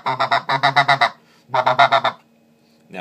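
A snow goose call blown on a Basin Calls White Devil call gives rapid bursts of high, nasal honks in two quick series with a short pause between, close and clear, imitating snow goose ground sounds.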